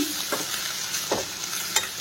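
Vegetables frying and sizzling in a pan while being stirred, a steady hiss broken by a few short scraping strokes of the spoon, close and clear, with no talking.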